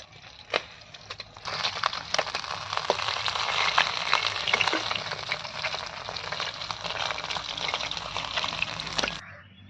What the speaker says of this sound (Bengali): এখন এই গরম তেলের মধ্যে আবার আলুগুলো ভেজে নিচ্ছি